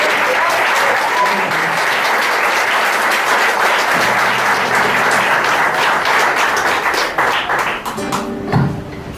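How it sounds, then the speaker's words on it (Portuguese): A church congregation applauds a woman coming up to speak, loud continuous clapping for several seconds that tapers off as a voice and a few thumps come in at the end. "Vamos aplaudir a serva do Senhor."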